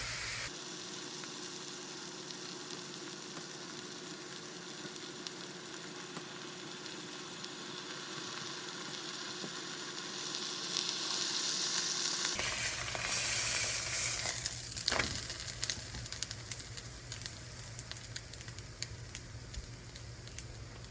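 A wrap burger cooking in a pan, a continuous soft sizzle that swells louder partway through, with a brief clatter near the end.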